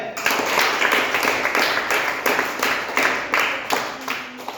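Applause from a quiz audience greeting a correct answer, a steady wash of many hands clapping with regular rhythmic surges, fairly close and continuous throughout.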